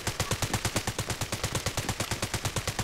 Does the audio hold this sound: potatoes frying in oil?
no